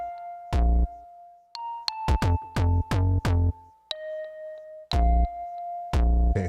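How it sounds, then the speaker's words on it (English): Programmed bell tones on an Akai MPC Live II sampler ring out in a series of bright, sustained strikes, some in quick rhythmic bursts, with resonant decaying tails between hits and no talking. "I want it to be a bell."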